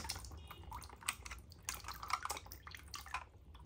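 Water drips and trickles off a box of toys in rapid irregular patters, close and fairly quiet, with no voice over it.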